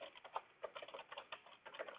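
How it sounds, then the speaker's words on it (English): Rapid keystrokes on a computer keyboard, irregular clicks in quick bursts, close and clear with no voice over them. "Pardon my typing."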